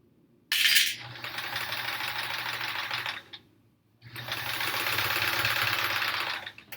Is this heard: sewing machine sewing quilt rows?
yes